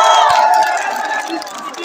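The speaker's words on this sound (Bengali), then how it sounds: "জোরে একটা করতালি হবে রংপুর রাইডার্স টিমের জন্য।" A large crowd at a Rangpur Riders BPL cricket event roars and cheers with dense, continuous noise that stays loud throughout and eases slightly toward the end.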